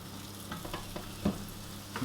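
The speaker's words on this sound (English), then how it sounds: "I've got a pan that's beginning to heat up. I'm going to put a good splash of oil in it, and then I'm going to stick in a piece of fish." A piece of fish frying in oil in a heating pan gives a soft, steady sizzle broken by scattered light crackles and pops, close up and alone.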